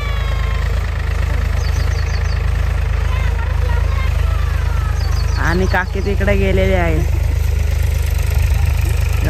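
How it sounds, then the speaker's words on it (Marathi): A tractor idles in a freshly dug field readied for rice sowing, its steady, loud, low-pitched rumble running unbroken from start to finish while someone talks over it and faint chirps drift through. "आता आम्ही इकडे ट्रॅक्टर लावलेला आहे"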